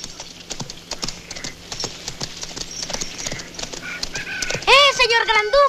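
Horses trot away over hard ground in a Western action film, their hooves making a steady, brisk clip-clop, followed by a loud neighing whinny near the end.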